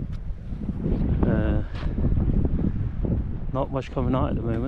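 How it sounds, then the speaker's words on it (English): Wind gusts across a fishing spot on the Norwegian shore, roaring and buffeting the microphone steadily while someone talks over it. "Wind picking up."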